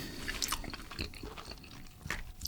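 Close, crisp chewing of fried food with crunchy bites and some wet, squishy mouth sounds, irregular and quiet, with no talking.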